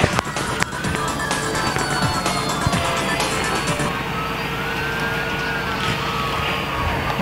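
A laser machine cuts steel sheet with a loud, steady whine and hum, faint sliding tones drifting through it, and a few sharp clicks at the start.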